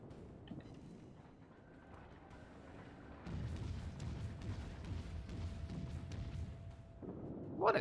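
A ship's cannons fire in a video game, landing as a deep, rumbling boom that lingers over quiet background sound, with a sharper burst near the end.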